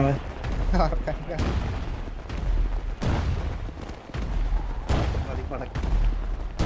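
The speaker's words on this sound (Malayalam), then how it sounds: "ബാക്കി പടക്കൊക്കെ പൊട്ടിക്കുന്നുണ്ട്" Repeated loud bangs of firecrackers burst one after another, sharp and booming, in irregular bursts close by.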